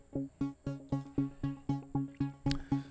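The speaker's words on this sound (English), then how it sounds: "Yeah, I added the normal arpeggio" Amapiano arpeggio programmed in FL Studio: a quick, evenly spaced run of plucked synth notes repeating in a tight loop, fairly quiet and alone.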